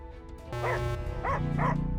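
Dog in a video game barking angrily, three sharp barks over a steady synthetic tone, close and loud.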